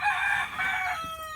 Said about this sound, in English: Look, that's your chicken.